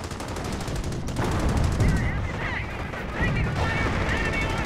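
Rapid flak gun suppression fire from a Whirlwind anti-aircraft vehicle in a real-time strategy war game, a dense continuous stream of bursts layered with other battlefield gunfire, loud and sustained throughout.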